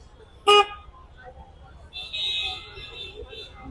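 Night street traffic near a busy Ramzan market in Hyderabad: one sharp car horn toot, then a longer, higher honk over a low hum of engines and distant voices.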